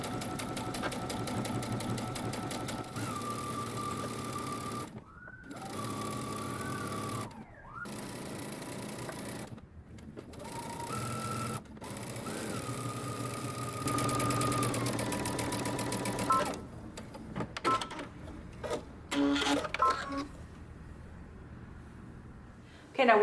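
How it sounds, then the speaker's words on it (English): A sewing machine stitches along a folded dress neckline, a steady close mechanical whir running for long stretches with brief stops, then lighter handling noises toward the end. "now I'm going to stitch about a 1/2 inch from the folded edge."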